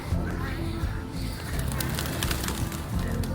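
Pigeons or doves coo outdoors in low, repeated tones over steady background noise with a constant hum.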